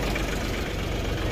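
A 1992 Mahindra 265 tractor's diesel engine idles steadily with a low, even rumble, close and continuous for the whole stretch with no talk over it.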